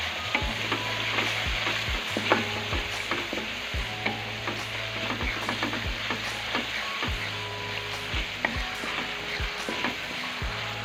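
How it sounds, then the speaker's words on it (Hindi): Spices sizzle and fry in ghee with cooked-down tomatoes for beef lobia, a steady crackling hiss broken by repeated scraping strokes of a spoon stirring the pot. "अब हम इसमें सारे मसाले ऐड कर देंगे। 1 मिनट के लिए इसे फ्राई करेंगे।"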